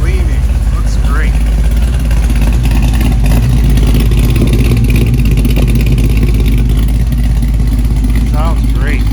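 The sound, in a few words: 1969 Chevelle SS 396 with 502 crate motor revving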